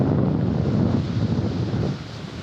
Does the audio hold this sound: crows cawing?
no